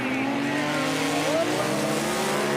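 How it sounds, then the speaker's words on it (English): A highly modified Highlander running a Yamaha Sidewinder 998 Turbo launches in a drag race, a loud, continuous engine roar with the pitch climbing steadily as it accelerates hard. "Listen to that. He's out of here like a shot."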